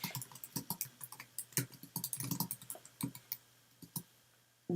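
Typing on a computer keyboard, with quick bursts of close, crisp key clicks in an uneven rhythm, slowing near the end before a brief pause and one last tap. No one speaks.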